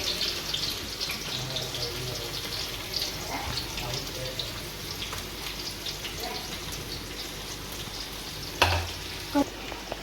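Garlic pieces and green chillies fry in a pan of oil for a banana curry, a steady sizzle running throughout with a few brief stirring clinks near the end.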